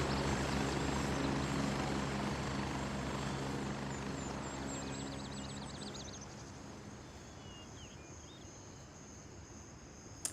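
Helicopter rotor and engine drone in a video game, a steady loud whir that fades gradually over the second half, with faint insect-like chirps above it.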